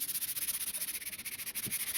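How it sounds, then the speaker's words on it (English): Light hand sanding with 180 grit sandpaper on an old wooden wardrobe, a quiet, rhythmic back-and-forth rubbing of fast, even strokes heard alone and close. "sandpaper here. Just a light sanding."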